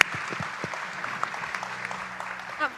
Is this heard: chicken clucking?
no